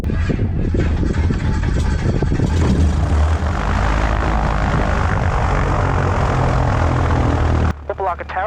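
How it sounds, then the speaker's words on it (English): Cessna 172 Skyhawk light aircraft with its engine droning steadily and loudly, a constant low rumble close up, with a voice talking over it before the sound cuts off abruptly near the end. "We're flying a boring Cessna 172."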